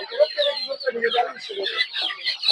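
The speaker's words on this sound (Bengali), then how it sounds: "এগুলো হচ্ছে টাইগার মুরগি।" Tiger chickens clucking at a busy village poultry market in Narsingdi, with a steady stream of close clucks and calls over crowd chatter.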